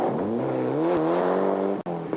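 Proton Wira rally car at a 1997 German rally, its engine revving hard and climbing through the gears with a brief cut-out near the end, loud and continuous without speech.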